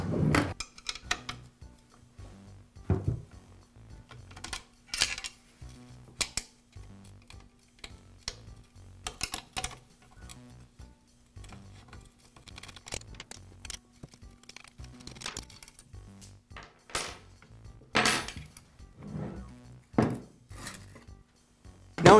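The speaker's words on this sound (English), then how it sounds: "I'll begin by removing the magazine from the nail gun. It's secured with a couple of screws and nuts." Screws and nuts being removed from the magazine of a Bostitch nail gun during a repair: scattered small metallic ticks, clicks and light clinks of hardware and tools, fairly close and irregular throughout, with no talking.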